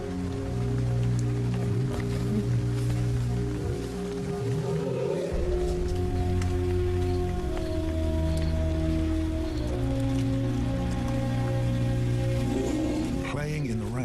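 Steady rain patters down outdoors, a continuous dense hiss with low droning background and occasional animal rumbles, no speech on top.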